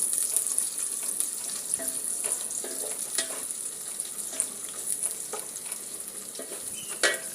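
Onions fry and sizzle steadily in a pan while a loud gas stove flame hisses underneath, with occasional stirring scrapes and clinks.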